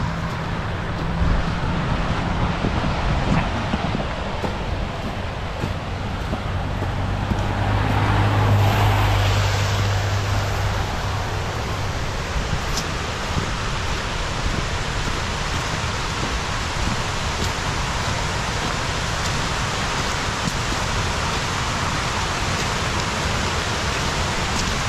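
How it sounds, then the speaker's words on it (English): A waterfall pouring in a wooded hideaway, a constant full hiss of falling water that swells briefly near the middle and stays steady and close, with no voices. "It's just a really cool waterfall right here."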